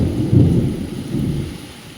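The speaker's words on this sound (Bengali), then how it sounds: "প্রচণ্ড মেঘ ডাকছে।" Loud, close rumbling thunder during a heavy downpour, swelling in two long rolling waves with rain hiss underneath; no speech.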